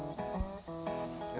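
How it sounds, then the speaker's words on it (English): Adult crickets chirping inside a cricket farm building, a steady high-pitched trill with repeated chirps close by, continuous and unbroken. "We have the adult crickets in. As you can hear the chirping noise, the cricket will not chirp until he's fully grown."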